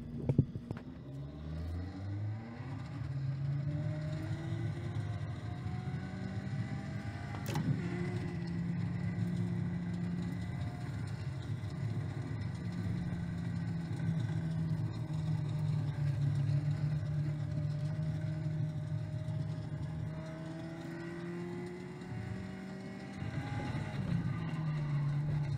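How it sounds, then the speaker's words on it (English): A SimRacingBay Open Sim Wheel force feedback motor hums steadily with car audio muted, a low sustained drone that shifts pitch as the wheel is turned, with a brief sharp click partway through. "car audio's muted. You're gonna hear the force feedback."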